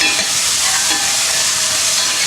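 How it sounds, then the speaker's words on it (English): A whole onion sizzles with cumin in hot ghee, a loud, dense, steady frying hiss heard up close and uninterrupted, with no talking, as palak paneer is being made. "you're going to put in 1 whole onion"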